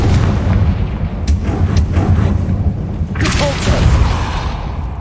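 A Confringo fire spell from the video game Hogwarts Legacy erupts in a loud booming blast, followed by sharp crackling bursts and a second heavy impact over a dense, rumbling battle background.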